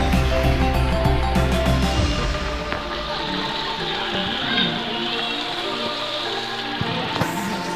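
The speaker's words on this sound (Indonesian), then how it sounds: "Hujan sana hujan, mendung." Steady rain falls under an overcast sky at a panoramic viewpoint, a dense, continuous hiss that stays loud and even throughout, with no voices.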